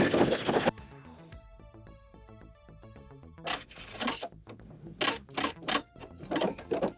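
A sewing machine stitches test seams on wool: after a loud opening whirr, quieter mechanical ticking gives way to repeated short bursts of running stitches, close and clear, with no talking.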